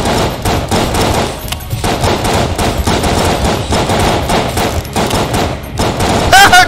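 Enemy gunfire in the video game Enter the Gungeon, rapid bursts of loud shots rattling almost continuously with brief gaps, dense and close, ending with a small high-pitched effect.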